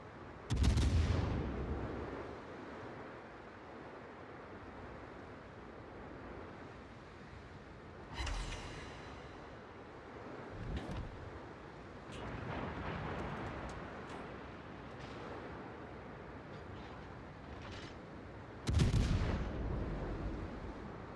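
Heavy guns of the Venezia cruiser firing in the naval battle game World of Warships, with three loud booming salvos spaced several seconds apart and quieter distant rumbling and shot sounds between them.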